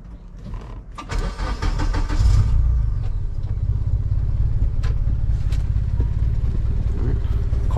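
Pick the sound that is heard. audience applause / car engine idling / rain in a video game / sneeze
car engine idling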